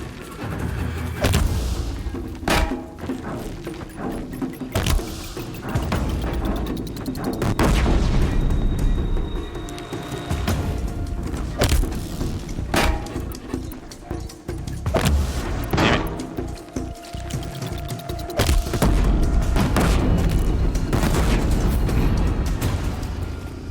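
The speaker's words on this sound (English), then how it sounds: "I'm just gonna use a bomb." Bomb blasts in Horizon Zero Dawn boom out repeatedly, heavy irregular explosions and sharp impacts spread across a loud, busy battle scene.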